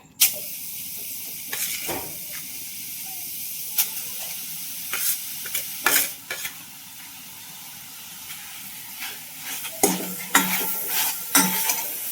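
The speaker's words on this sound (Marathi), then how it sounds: "तर चांगलं तुपात असं ना परतून घेणार आहे, भाजून घ्यायचंय." Soft sizzling of grated pumpkin sautéing in ghee, with repeated scraping and clinking of a spoon stirring against the pan, close and without speech.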